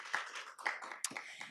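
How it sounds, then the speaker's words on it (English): A small round of applause for competition judges at a university grad slam semi-final, heard as a few scattered, close hand claps with gaps between them rather than sustained clapping. "We give them a little round of applause and thank them all for being here"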